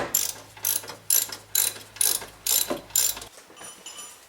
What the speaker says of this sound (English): You can go ahead and tighten the upper alternator mounting bolt with our 14mm ratchet.